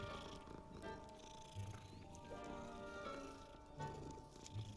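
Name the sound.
angry cat in video game Hogwarts Legacy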